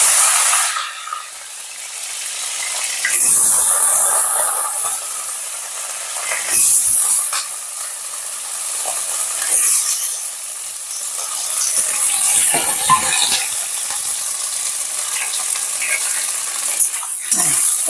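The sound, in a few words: vegetables frying in oil with green chili tempering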